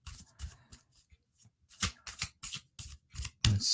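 Tarot cards shuffled quickly by hand, a run of crisp riffling bursts and soft slaps coming in uneven clusters, close and fairly loud, with no talking.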